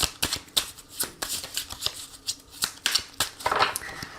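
Tarot cards shuffled and cut by hand for a reading, a quick run of crisp riffling slaps and flutters with irregular bursts, close and fairly quiet, with no voice over them.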